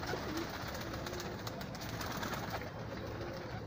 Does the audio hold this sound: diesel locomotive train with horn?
no